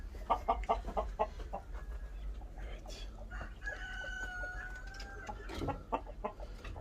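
A hen and rooster clucking close by in a farmyard coop, with rapid clucks at the start, a drawn-out call in the middle and more clucking toward the end.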